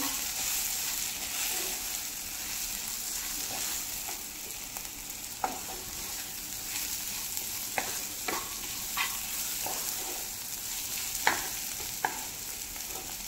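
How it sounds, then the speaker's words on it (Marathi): A dry Bombay duck fry mixture with crushed peanuts stirred in a pan, a faint continuous sizzle with scattered light scrapes and clicks of a spoon against the pan. "आता हे सगळं व्यवस्थित मिक्स करून घ्यायचं।"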